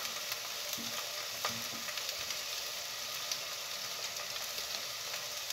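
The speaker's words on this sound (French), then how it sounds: "je les grille des deux côtés" Zucchini rounds grill in a pan, salted to draw out their water, with a steady near sizzle and occasional faint clicks of utensils, no talk.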